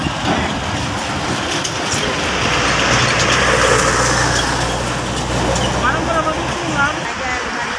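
A Mitsubishi Fuso truck hauling a scrap container pulls out of the parking area at Tanjung Priok port, its engine giving a steady low rumble amid continuous loud port traffic noise.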